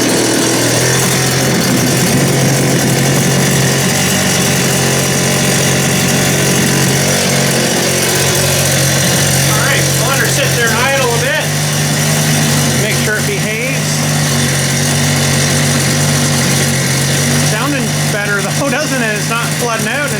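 A Stihl TS400 cut-off saw's two-stroke engine idles steadily and close by for a long stretch, a continuous buzzing drone with a few slight revving wobbles, while someone talks over it.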